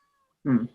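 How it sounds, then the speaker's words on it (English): A single short cat meow, close and clear, after near silence. "That was my cat wanting to chime in because reasons."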